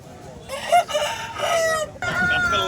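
A native rooster crows nearby at the Vijayawada Sunday poultry market, a loud drawn-out call broken into rising and falling phrases, with soft clucking and faint market noise behind.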